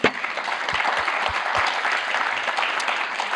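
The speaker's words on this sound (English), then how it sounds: "Please, a round of applause." An audience at a panel discussion on CFOs and artificial intelligence applauds the panelists, a steady round of clapping with a few distinct close claps, lasting the full few seconds.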